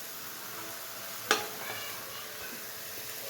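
Khoya is dropped into a pan of gajar halwa with one sharp soft thud, followed by steady low sizzling and stirring scrapes that continue quietly throughout.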